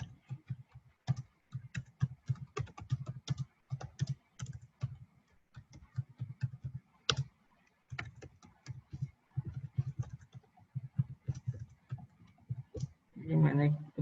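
Rapid bursts of computer keyboard typing while entering text in a design app, with clicky keystrokes in uneven runs separated by short pauses.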